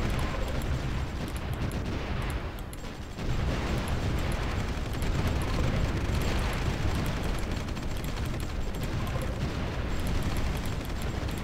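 Sustained explosions and gunfire from an artillery battle in the war strategy game Supreme Ruler 2030, a dense, continuous rumble of blasts without pauses.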